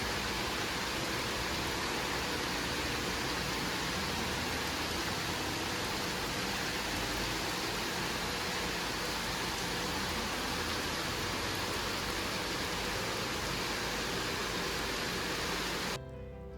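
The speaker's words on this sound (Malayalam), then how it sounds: "ഇപ്പം നന്നായിട്ട് മഴ കൂടിയിട്ടുണ്ട്." Heavy rain pours down outside a home in the early morning, a dense, even roar of hiss that carries on unbroken for about sixteen seconds before cutting off abruptly.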